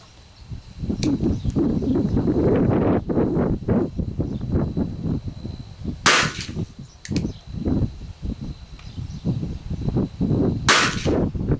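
An engraved medium-frame Merwin Hulbert single-action spur trigger revolver fires outdoors, with two sharp, loud cracks several seconds apart standing out over steady wind and rustling noise.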